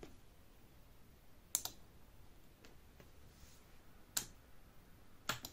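An electrical relay switches during a continuity test, giving three sharp, isolated clicks spaced a second or more apart over a quiet background hiss.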